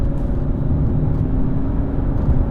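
BMW 530d Gran Turismo diesel pulling hard on a bypass: a steady, dense low engine rumble with road whir, continuous and even throughout, no voices.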